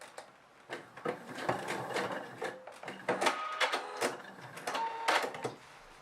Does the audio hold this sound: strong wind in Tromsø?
no